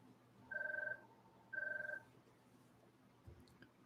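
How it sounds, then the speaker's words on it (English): Two long electronic telephone ring bursts, each about half a second, sound alone and fairly clear against a quiet room, followed by faint handling noise. "Here we go with the phone."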